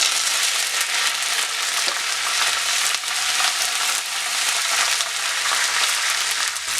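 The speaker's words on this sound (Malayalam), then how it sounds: "കടുക് പൊട്ടി വന്നിട്ടുണ്ട് അതിലേക്ക് ഒരു നാലഞ്ച് മുളകും കുറച്ച് കറിവേപ്പിലയും കൂടെ ഇട്ട് കൊടുക്കാം" Mustard seeds, dried chillies and curry leaves fry in hot oil for a mango pickle, making a loud, continuous sizzle and crackle with no talking.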